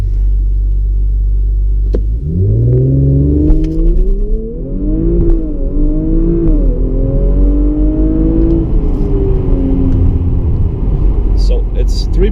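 Audi RS5 pulling hard from a standstill, its engine rising through the gears in a loud, close run of climbing pitch with brief dips at each shift, under a steady rumble and muffled road noise.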